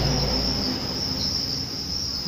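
Crickets chirp steadily inside a breeding container on a cricket farm, a dense continuous high trill from many insects at close range, with no voices.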